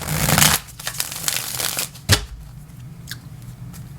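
Tarot cards being shuffled by hand, close and crisp, with a loud riffle burst at the start, a sharp snap midway, then softer intermittent card slides and taps.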